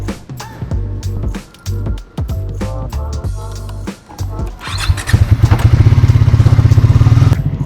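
Clattering and thumps give way to a Triumph motorcycle engine starting close by, then idling with a loud, rhythmic throb.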